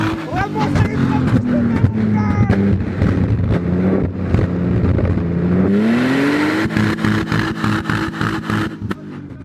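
A car's engine revs hard and repeatedly as its exhaust shoots flames, loud rising and falling vroom sweeps close by, with several people talking and exclaiming over it.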